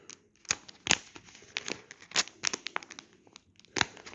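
Plastic packaging around an Insta360 quick release mount is crinkled and torn open by hand, giving close, irregular bursts of crackling and rustling with short pauses between them.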